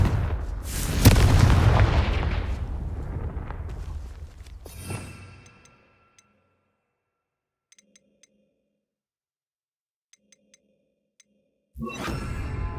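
Confringo spell explosions in a Harry Potter video game, a loud booming blast that rumbles and fades over several seconds with a second thud. Near-silence follows with small clinks, then another burst at the end.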